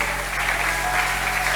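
Church congregation applauding during a Sunday service, a steady dense wash of clapping that holds at an even level throughout.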